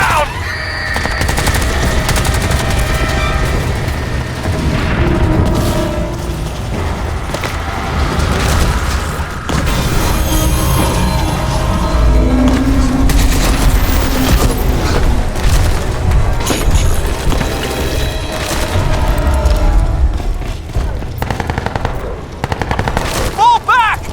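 Sustained automatic gunfire in the video game Crysis 2 Remastered, loud and continuous with rapid bursts and heavy booms, mixed with shouted voices throughout.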